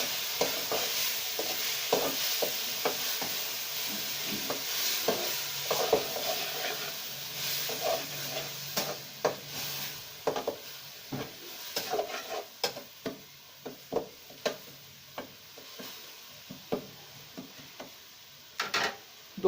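Chopped tomatoes and spices stirred and sizzling in a pan for an egg chingari dish, with a steady frying hiss under repeated scraping, clicking spoon strokes that grow sharper and more rhythmic toward the end.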